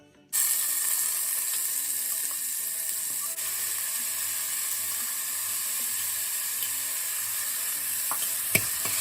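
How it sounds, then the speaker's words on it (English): Chopped onions saute in a little olive oil, giving a steady, even bright sizzle that starts abruptly and holds continuously, close and moderately loud, with one small clink near the end. "I'm going to saute my onions here in a little olive oil."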